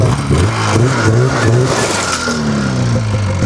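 A used $350 snowmobile engine running on a gravel driveway, a loud close rough drone that rises and falls in pitch through a couple of rev swells.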